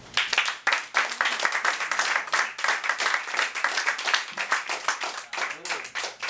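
Audience applause after a poetry and song reading at an evening event, steady dense clapping filling the room for several seconds, fairly loud and continuous with no pauses.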